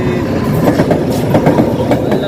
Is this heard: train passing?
yes